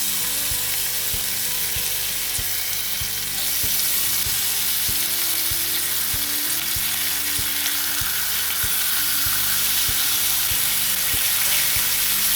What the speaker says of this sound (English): Okay, the bacon is getting nice and crispy.